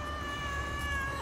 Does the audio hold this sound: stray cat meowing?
yes